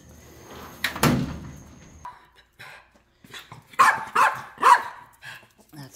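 Dogs bark indoors in several short, sharp bursts near the microphone after a door bangs, with a person speaking quietly between the barks.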